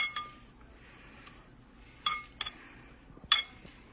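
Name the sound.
mixing Italian cold green bean salad in a bowl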